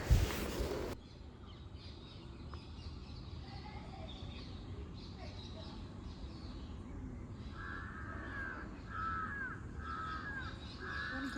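A crow caws four times in an even series from a moderate distance in a quiet residential area, following a brief loud knock at the start and a long stretch of soft background hush.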